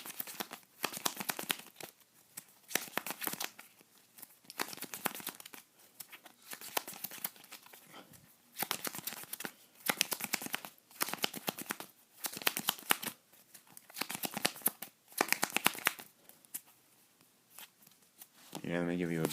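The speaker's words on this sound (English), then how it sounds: "let me show you how my shuffle works" Playing cards are hand-shuffled in repeated bursts, crisp riffling and sliding rattles about every second or two, close and clear.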